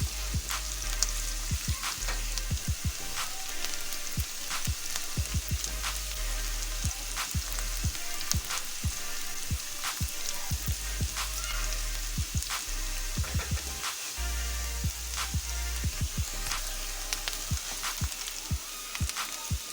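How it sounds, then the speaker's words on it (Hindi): A spoon keeps stirring potato bharta as it fries in a pan until lightly golden, with steady loud sizzling and frequent quick scraping taps of the spoon against the pan throughout. "ये आगे चम्मच हिलाते रहेंगे जब तक ये थोड़ा सा लाइट गोल्डन ना हो जाए।"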